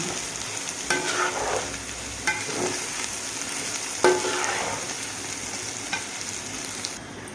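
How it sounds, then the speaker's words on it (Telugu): Biryani masala and chili powder frying in a pan for vegetable biryani, a steady close sizzle with a few scraping stir strokes at intervals and no talking. "ఇవన్నీ బాగా వేగినాయి కదండి"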